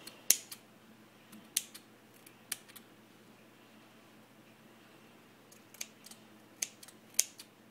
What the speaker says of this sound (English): I'm just going to trim it a little bit.